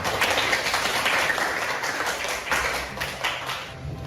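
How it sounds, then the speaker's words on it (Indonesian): Students in a classroom clap together after a group's project succeeds, a steady wash of applause lasting several seconds at moderate level. "Tepuk tangan"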